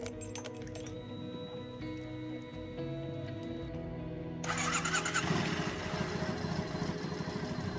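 A Triumph Bonneville motorcycle engine cranks and catches, then settles into a rumbling idle, close and steady over ticking.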